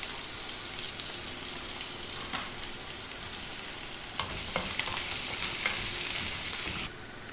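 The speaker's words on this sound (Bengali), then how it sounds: "এখন সেদ্ধ সিম একটু তেলে ভেজে নিব পেঁয়াজ রসুনের সাথে।" Boiled beans are fried in oil with onion and garlic in a pan, a close sizzle with intermittent stirring clatter, the frying briefly growing louder and hissier before dropping back.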